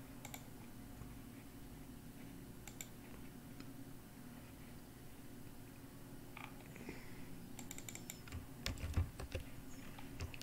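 Computer keyboard typing and mouse clicks while an article is selected and copied, a steady patter of light keystrokes with scattered sharper clicks that grow busier toward the end, close up with no talk.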